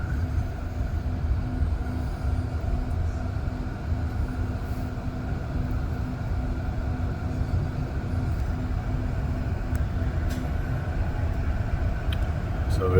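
Commuter train on the Mont Saint Hilaire line near Via Rail tracks, heard from inside as a steady, loud low rumble of wheels on rails, with faint squeals and clicks near the end.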